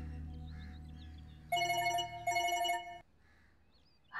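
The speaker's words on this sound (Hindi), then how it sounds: "इसका फोन आ गया।" An indoor telephone rings in two bright electronic bursts, each lasting about a second and a half, separated by a short gap, loud and close, then silence follows with no talking.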